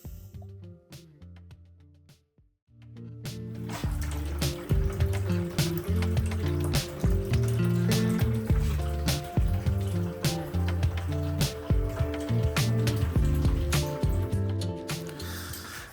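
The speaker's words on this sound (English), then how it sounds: "while our first water heater is being drained" Water drains from a gas water heater into a hollow container with a steady gurgling, splashing flow and irregular clunky drips and knocks, close and fairly quiet after a brief pause near the start.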